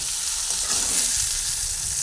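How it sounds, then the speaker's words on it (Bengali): Pointed gourd (potol) frying in oil in a kadai while being stirred, a loud close sizzle with soft scraping movements through the middle, continuous and without talk. "কিছুক্ষণ সুন্দরভাবে নাড়াচাড়া করে এটা ভেজে নিলাম"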